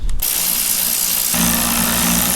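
A quick mechanical whir as a 10 mm bolt is run out on a RAM 1500 pickup truck, a brief burst followed by a steady buzzing hum, close and alone.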